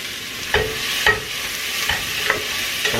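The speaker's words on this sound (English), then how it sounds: "I'm going to start with the onions first, because they need the most cooking. So we'll go ahead and get the onions in there." Chopped onions frying in hot oil in a pot: a steady close sizzle with several sharp clacks and scrapes from a utensil stirring them at irregular intervals.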